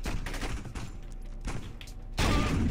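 Shotgun fire in the video game Saints Row: a string of loud, close blasts in irregular rhythm, ending in a heavier sustained boom, with no talk over it.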